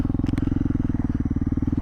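A Suzuki DR dual sport motorcycle fitted with a DG RST exhaust rumbles close by at a steady loping idle-to-cruise pulse, deep and loud with rapid regular beats.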